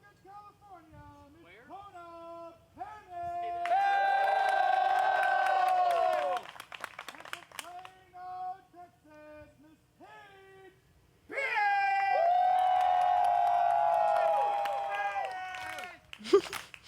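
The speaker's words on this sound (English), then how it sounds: "elusive slow clap. You can hear it all over the course." Spectators at a disc golf tournament final round, a slow clap heard in two loud sustained bursts of rhythmic claps and cheering, with quieter gaps of talk between them.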